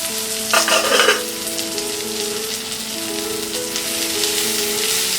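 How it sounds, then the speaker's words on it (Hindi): Ivy gourd (tindora) frying in a pan, with a steady loud sizzle throughout and a brief scraping stir near the start, no voices. "फिर से ढक के 5 मिनट तक इसे और फ्राई करेंगे।"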